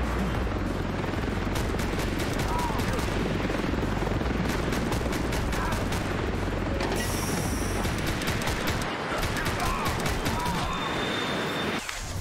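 Rapid automatic gunfire in the John Wick Commute Simulator video game, as an even stream of fast, evenly spaced shots, loud and close, with brief pauses and a mechanical clatter underneath.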